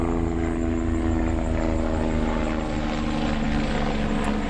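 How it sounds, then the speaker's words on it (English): A helicopter flies over an urban area, a steady loud throbbing rotor drone that holds at a constant level throughout, close and dominating the scene. "There's a lot of helicopters."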